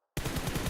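Rapid automatic gunfire in a PUBG Mobile match starts abruptly after a moment of silence and rattles on in a dense, loud burst of evenly spaced shots.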